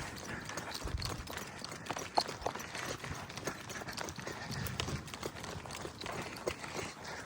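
Several horses trot through a pasture gate on a Colorado ranch in fall, their hoofbeats a loose, uneven clip-clop at a moderate distance under steady outdoor background noise.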